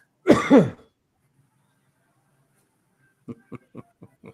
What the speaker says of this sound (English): There he is. Having a coughing fit.